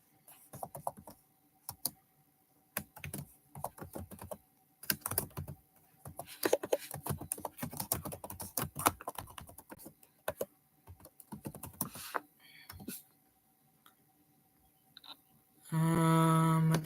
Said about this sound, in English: I'm just typing everything, guys.